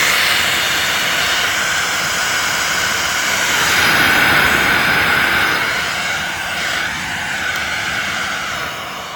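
AirVac AV3500 central vacuum motor, 23 years old, running with a loud steady whine and rushing airflow that swells midway and then eases slightly.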